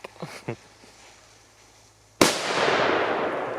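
Firecrackers from 2024 stock, heard as a few faint pops followed by one sharp, loud bang that trails off into a long, noisy rumbling decay outdoors.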